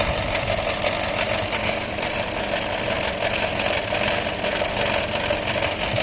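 A 2014 Chevrolet Cruze 1.4L engine idles with a misfire, a close, steady mechanical chatter with uneven knocking pulses running continuously with no talk.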